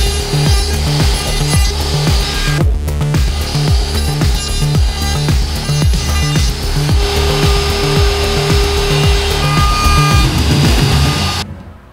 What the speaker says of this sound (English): This was my first time using this dovetail jig,